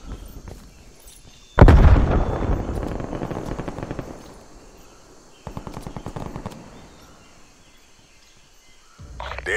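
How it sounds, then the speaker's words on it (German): A grenade blast goes off in Call of Duty: Black Ops Cold War as a loud booming burst that trails into rumbling debris, followed by a second smaller blast and more impacts near the end. "Werfe Granate"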